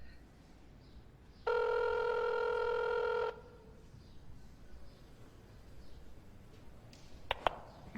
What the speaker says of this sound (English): A noisy phone call.